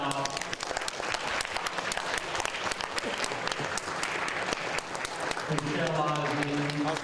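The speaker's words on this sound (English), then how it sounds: "would the table leaders please stand for a round of applause?" Sustained applause from a seated group at a small-group session, many hands clapping in a loud, even wash for several seconds, with voices talking over the final stretch.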